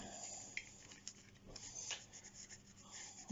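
Soft cloth rubbing over a vintage Hornby-Triang BR class 08 shunter model locomotive, a faint, quiet scuffing with a few light taps and brushes, close by and with no talking.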